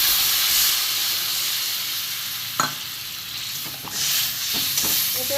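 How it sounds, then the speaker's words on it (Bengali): Potato curry with onions, two kinds of mustard and green chilli paste sizzles loudly in a pan, a continuous close hiss of frying broken by a few soft clinks of stirring, with no one talking. "এখানে আমি 2 রকম সর্ষে আর কাঁচা লঙ্কা বাটা দিয়ে দেবো।"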